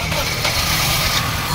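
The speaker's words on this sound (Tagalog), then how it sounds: "Engine start." A Suzuki Solio with an automatic transmission, having an engine auto-shutdown fault, is started during injector troubleshooting and settles into a loud, steady idle close by.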